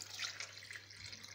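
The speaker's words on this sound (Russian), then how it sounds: "И теперь я заливаю его фильтрованной водой," Filtered water runs quietly over chickpeas in a bowl, a faint, steady trickle with no talking.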